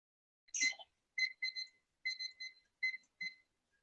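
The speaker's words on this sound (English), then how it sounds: "I start the timer" A kitchen timer sounds a series of short, clear electronic beeps in quick groups of two or three while pasta water is set to boil, close and distinct with silence between.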